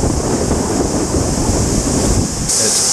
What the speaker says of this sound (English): There's a lot of water in the river.